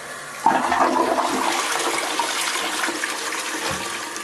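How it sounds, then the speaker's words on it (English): A dual-flush toilet releasing its larger flush: a sudden close rush of water that roars steadily for several seconds and then begins to ease off, with no talking. "I can have 2 options and I can press the larger flush"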